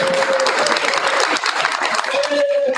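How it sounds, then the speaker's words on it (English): A crowd at a board meeting applauds a person called to the front, a dense, steady burst of clapping close by with a faint tonal hum underneath. "Let's give Gilmer a round of applause"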